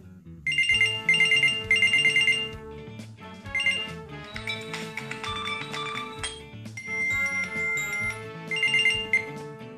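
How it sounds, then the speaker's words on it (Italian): Notification ringtones on a Samsung Gear 2 Neo smartwatch playing one after another as bright chiming melodies, clear and close with short pauses between tones. "Le suonerie delle notifiche."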